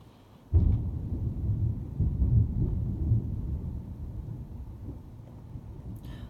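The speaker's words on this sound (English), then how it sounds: "Thunder." Deep, rolling thunder from a storm breaks in abruptly and rumbles on loudly, slowly fading over several seconds with no talking.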